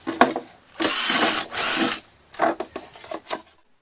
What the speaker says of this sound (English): Take the yogurt cup out and drill it outside of the blue container so that you don't put a hole through your hand.